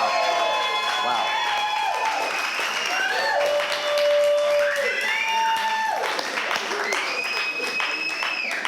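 Audience applause at a live vintage music show, a dense, loud wash of clapping with some cheering, sustained throughout while a voice talks over it.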